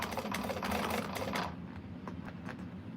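A sewing machine runs fast with bobbin thread, giving a rapid mechanical rattle that stops partway through and leaves light clicks and quiet handling sounds.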